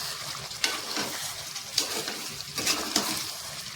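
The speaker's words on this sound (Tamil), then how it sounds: "இந்த உப்பு இதோடையே போட்டு மிக்ஸ் பண்ணிடலாம்." Salt being stirred into chicken biryani curry in a pot, with steady sizzling and several distinct scrapes of a spoon against the metal at irregular intervals, close by and with no talking.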